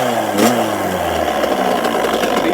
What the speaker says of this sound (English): The bike run and idle.